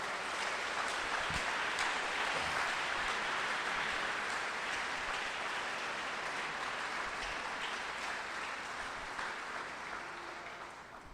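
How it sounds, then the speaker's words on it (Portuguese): A church congregation applauds in a long, steady wash of dense clapping that fills the room and slowly tapers off toward the end, no voices over it. "Vale um aplauso ao Senhor?"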